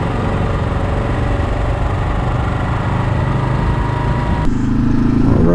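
A 2022 Kawasaki KLR650 single-cylinder motorcycle rides dirt roads through the Southwest Utah desert, its engine a loud, steady, close drone with a sudden shift in pitch near the end, and nobody speaks.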